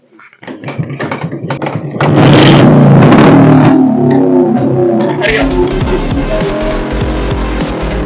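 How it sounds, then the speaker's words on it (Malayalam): An old vehicle engine cranks with a few sputtering clicks, catches after about two seconds, then roars and revs loudly and close up, settling into a heavy rumbling idle. "അങ്ങനെ ഞങ്ങള് വണ്ടി സ്റ്റാർട്ട് ചെയ്തത്"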